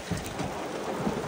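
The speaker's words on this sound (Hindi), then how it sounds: "इतने जोरों की बारिश में आज तक कभी नहीं फंसा" Heavy rain pours down steadily in a thunderstorm at a picnic spot in Kashmir, a dense close hiss with low rumbling thunder underneath and no voices.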